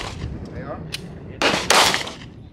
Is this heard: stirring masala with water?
no